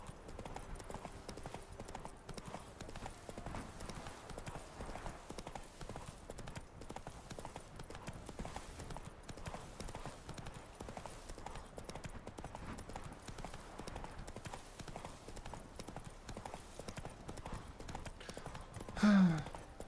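A horse clip-clopping steadily at close range in The Witcher 3: Wild Hunt, with an even run of hoofbeats throughout and a short louder burst near the end.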